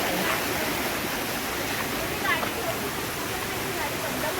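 A small waterfall pours and rushes nearby in a continuous broadband roar, steady and loud throughout, with faint outdoor sounds on top.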